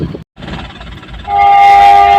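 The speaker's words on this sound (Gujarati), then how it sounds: "અહીંયા ટ્રેન નીકળે છે." A train passes a closed railway crossing on Muri Road near Surendranagar, a loud rolling rumble of wagons rising as a sustained horn blast sounds close by, with no talk over it.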